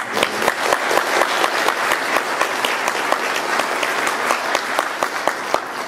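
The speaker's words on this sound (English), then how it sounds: "Can we give a round of applause?" Audience applause fills the room, a dense, steady patter of many hands clapping at fairly close range, continuous and loud without speech over it.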